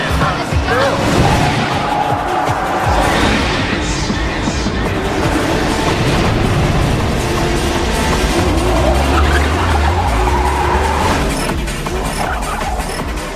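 A Mitsubishi Lancer Evo and a Subaru Impreza race in a film scene, giving a loud, dense roar of engines and tyre noise throughout, with rattling and skidding bursts and a deep rumble near the end.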